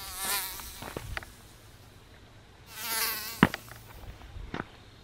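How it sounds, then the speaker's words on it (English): Mosquitoes swarm near an RV campsite, their thin whining buzz rising and fading as insects pass close to the ear in two main waves, with a few soft taps and rustles. "Oh, mosquitoes are getting bad."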